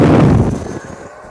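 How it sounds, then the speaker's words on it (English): Model Avro Vulcan jet aircraft taking off, a loud close roaring burst that fades quickly as it pulls away, with no talk. "That was a better takeoff."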